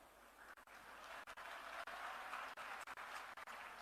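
Audience applause at a political rally in Una, heard as a faint, sustained wash of clapping from a distant crowd with a few brief dips.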